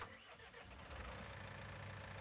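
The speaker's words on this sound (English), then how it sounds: "So now, let's fire up the tractor." A tractor engine in the farming game Farming Simulator 19 cranks and starts, then settles into a steady mid-pitched rumble with no talking.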